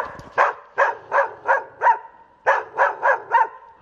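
A dog barks repeatedly nearby, two bursts of about five sharp barks each, separated by a short pause.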